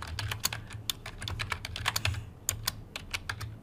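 Fast typing on a computer keyboard, a close run of crisp key clicks in quick irregular bursts with a short pause near the middle, no voices.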